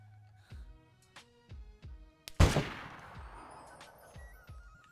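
Gunfire in the DayZ video game: a run of sharp single shots spaced through the clip, with one much louder, close blast in the middle that leaves a long echoing tail, with faint voice chatter.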